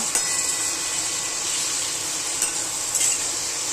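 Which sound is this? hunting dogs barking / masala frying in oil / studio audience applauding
masala frying in oil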